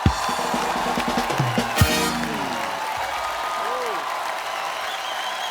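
Studio audience applause on a comedy talk show, a loud burst of clapping and cheering at the start that gradually thins out, with musical tones and brief voices in the background.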